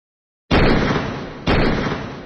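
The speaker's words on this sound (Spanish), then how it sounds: "Escuché unos disparos." Two loud, close gunshots in a Spanish-language drama episode, each a sharp blast about a second apart with a lingering decaying tail.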